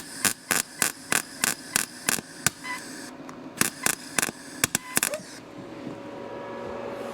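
A YesWelder 205DS welder fills a hole in a Porsche 911 body panel, giving a run of sharp, evenly spaced crackling bursts, then a sputter and a softer steady hiss, close and loud with no talk.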